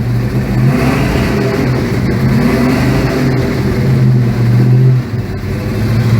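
A muscle car's V8 with a Holley 650 carburetor, Edelbrock aluminum intake and dual Flowmaster exhaust rumbles loudly and steadily from the driver's seat, revving up and easing back in a continuous deep drone.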